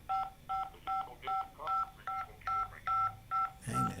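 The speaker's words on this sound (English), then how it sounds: "Is that your phone?" Telephone keypad tones beep in a regular series of about ten short, evenly spaced pulses during a phone call, loud and close, ending with a brief burst of noise.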